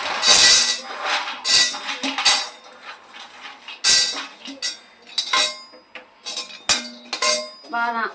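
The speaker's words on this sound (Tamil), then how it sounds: "இதையும் எடுத்து நம்ம சட்டியில் கொட்டி விட்டுறோம்." Roasted lentils and almonds are tipped into a pan in several bursts, rattling and clinking against the metal in uneven, close, fairly loud runs with short pauses between them.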